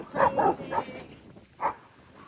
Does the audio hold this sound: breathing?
no